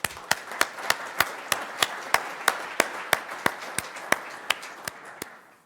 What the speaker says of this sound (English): Can we have a round of applause for everyone here?